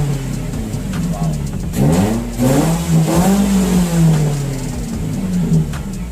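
A Proton Satria Neo car engine revs loudly up close, with rising and falling revs over a steady idle and no talk.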